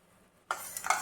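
Sugar syrup boiling on a stove over medium heat: a steady bubbling sizzle starts abruptly about halfway through and continues close up, with a few louder pops near the end.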